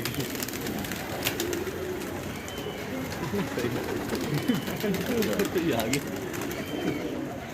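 Pigeons coo steadily in low, rolling murmurs, several birds overlapping close by, with a busy outdoor hum underneath.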